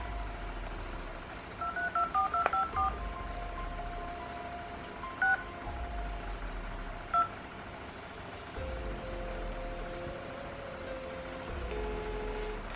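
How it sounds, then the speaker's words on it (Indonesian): A phone call is placed: a quick burst of keypad dialing tones and two more single beeps come first, then a steady, faint ringing tone follows the call being put through. "Oke okay guys, berdering ya guys."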